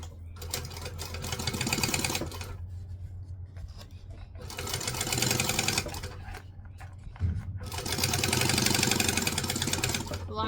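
A sewing machine topstitches fabric at one-eighth inch in three loud, steady whirring bursts of about two seconds each, separated by short pauses in which faint handling noises carry on.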